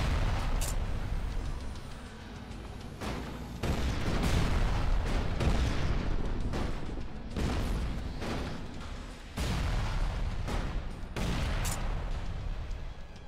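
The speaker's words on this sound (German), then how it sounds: "Vor allem der Granatwerfer ist auch schön schnell." Grenade launcher explosions in the action RPG Elex II, a dense, loud barrage of booms and bursts that rolls on almost without pause, with a few sharper blasts standing out.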